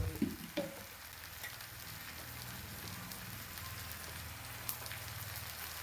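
Ghee sizzling in a hot pan during cooking of a milk-based dish, a steady faint crackle and hiss with a few small clinks, no talking.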